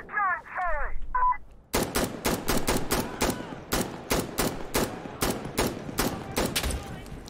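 Rapid bursts of automatic gunfire from the video game Insurgency Sandstorm, a steady run of about twenty loud, closely spaced shots after a brief beeping tone.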